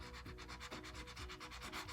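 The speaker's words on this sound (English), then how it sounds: "I will just lightly rub the edges" Rhythmic rubbing of a wet sanding block on the edges of epoxy resin coasters, quick repeated back-and-forth strokes with a gritty scraping texture, close and fairly quiet.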